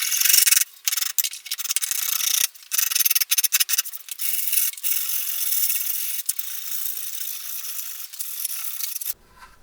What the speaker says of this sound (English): rub a radius in with some sandpaper